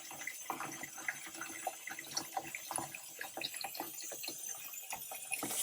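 Tap water runs quietly and steadily into a sink while chestnuts are washed, with small irregular splashes and clicks in a soft continuous stream.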